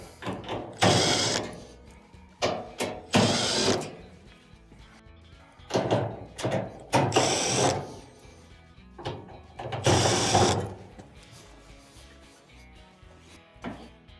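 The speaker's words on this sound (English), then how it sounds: "Then we have multiple Phillips screws on the bulkhead to take it out." Phillips screws come out of a clothes dryer's bulkhead, heard as the close, ratcheting whir of a driver in repeated bursts with mechanical clicks between them, and no talking.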